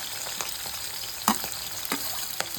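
Onions tossed into hot oil with green chillies in a pan for a Kannada-style bassaru, giving a steady close sizzle with a few sharper crackles and stirring clicks, no voices.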